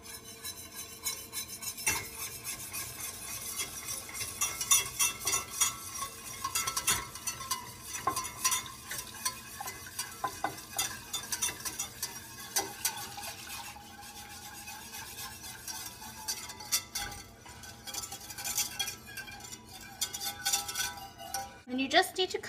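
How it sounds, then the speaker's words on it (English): A warm, milk-infused mixture being whisked into a soufflé sauce: quiet, continuous rhythmic scraping and clinking of a whisk against a pan, with soft kitchen clatter throughout. "So, while this is warm, whisk it in."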